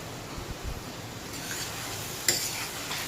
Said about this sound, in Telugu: నెయ్యి బయటకు వచ్చే వరకు వేయించుకోవాలి.